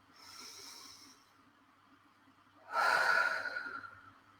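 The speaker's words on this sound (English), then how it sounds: "take a couple big clearing breaths" Two big clearing breaths in a calm guided healing session, a softer inhale followed after a pause by a louder, forceful exhale with an audible rushing hiss, heard close up.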